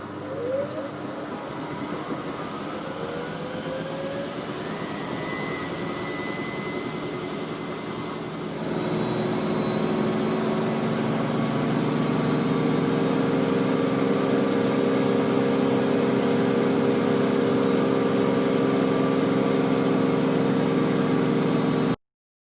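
Washing machine on its final spin after rinsing with non-biological washing powder, a steady whirring drone that ramps up and rises in pitch, running loud and close before cutting off abruptly.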